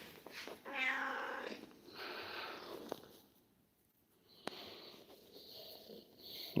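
House cats meow softly indoors, giving a few faint, scattered calls with quiet gaps between them and light rustling sounds.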